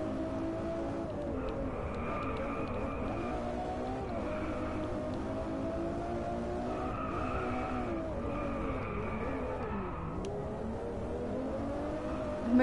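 Car in the VR racing game Driveclub VR spinning doughnuts, a steady engine drone with wavering pitch and tyre skid squeal running continuously, loud and close with no talk.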